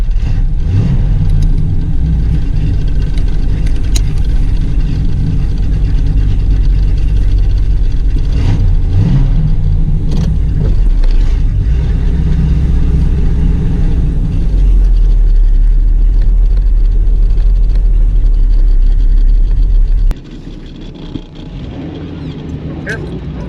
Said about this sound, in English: Take the old Buick for a cruise here